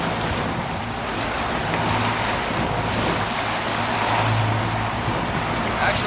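Fishing boat at sea with its engines barely on, cruising at about 8 knots, a steady low motor hum under strong wind and water rush, continuous and fairly loud with no talking.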